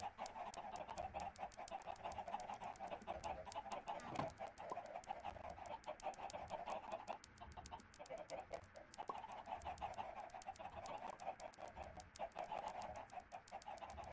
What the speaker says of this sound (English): Give me your eggs, chickens.